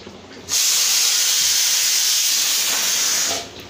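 A pressure cooker full of dal lets out a loud, steady steam hiss. It starts abruptly after a quiet moment, holds strong for about three seconds, then cuts off. Kitchen hum sits underneath.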